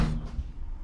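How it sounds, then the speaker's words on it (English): A Toyota Land Cruiser 105 series door slams shut once, close and solid, with a low thud that dies away quickly. "And the door shut."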